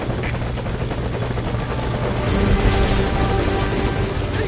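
A helicopter from the Metal Gear Solid V: Ground Zeroes video game drones loudly and steadily with its rotor chop, swelling slightly partway through.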